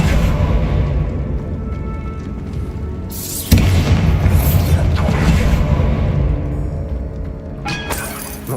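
A Bombarda spell explosion in the Hogwarts Legacy video game goes off with a loud booming blast, followed by a sustained rumble and debris-like crashing, with a second burst near the end.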